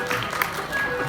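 Audience clapping at a school annual day cultural skit, a dense patter of applause that fills the short moment, with a voice speaking over it.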